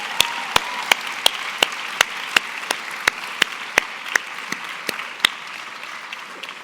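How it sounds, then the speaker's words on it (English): Sparse, separate claps ring out from an audience at the SAIS Europe 2025 commencement, honoring the graduating students: a steady stream of crisp, individual hand claps at moderate distance over a quiet room. "please, one more round of applause for the graduating students"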